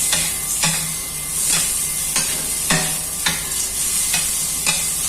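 Steady sizzling and crackling of sauce in a hot frying pan of chicken with soy sauce and vinegar, with periodic scraping as food is stirred, close up and continuous without speech.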